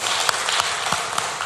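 A church congregation claps together in a brief, steady burst of applause, many hands close and moderately loud, with a few sharper individual claps standing out.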